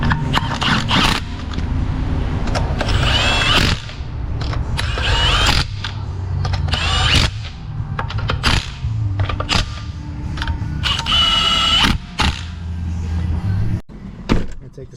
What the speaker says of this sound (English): Wheel on, torques that axle nut